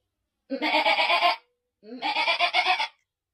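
A black goat bleats twice, two loud, close, wavering calls of about a second each separated by a short silence.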